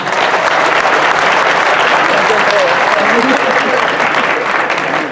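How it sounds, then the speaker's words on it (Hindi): A large crowd of students at a public address gives loud, dense applause that holds steady and unbroken the whole way through, with no other sound standing out. "उनके नाम से एक जोरदार ताली बजा दीजिए"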